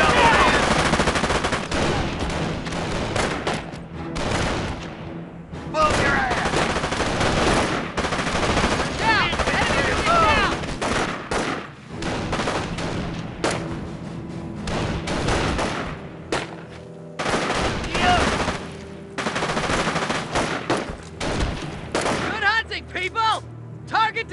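Gunfire in the Company of Heroes strategy game, played on a phone: rapid bursts of rifle and machine-gun fire rattle loudly and repeatedly over battlefield noise, with shouted unit voice lines mixed in.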